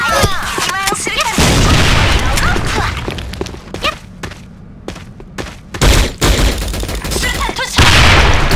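Grenade blasts and gunfire in a video game, loud and booming with heavy low rumble, a burst of shots and thuds recurring through the clip, dense and close under the game's din.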